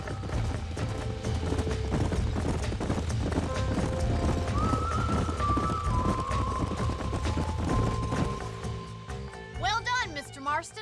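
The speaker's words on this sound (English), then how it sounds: "These are fine horses." Horses gallop in Red Dead Redemption, with dense, rapid hoofbeats and a whinny near the end, set against sustained game music.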